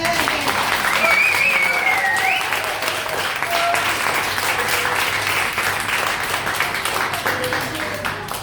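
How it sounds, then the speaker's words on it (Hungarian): Audience at a tango anniversary gathering applauds the DJ, sustained crowd clapping at steady volume with a few voices and whoops mixed in. "nagy tapsot a DJ-nek!"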